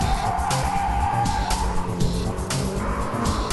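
A car drifts through a corner with continuous engine roar and rising tire squeal and skid noise, loud and sustained throughout, with no voices over it.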